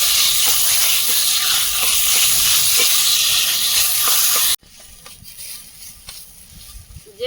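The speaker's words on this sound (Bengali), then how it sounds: "কুমড়ো পাতাটা বেটে তুলে নিয়েছিলাম এখন এই তেলের মধ্যে দিয়ে দিচ্ছি" A loud steady hiss of hot mustard oil fills the first part as ground pumpkin leaf paste goes in, then the sound drops abruptly to a quieter, uneven sizzle with faint clinks.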